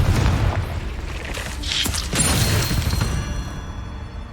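Confringo explosive spell from Hogwarts Legacy bursts amid loud, dense game action, with sharp blasts around the middle over a continuous rumbling roar that fades toward the end.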